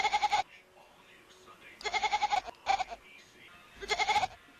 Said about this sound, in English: For some weird reason, this kitten sounds like a goat.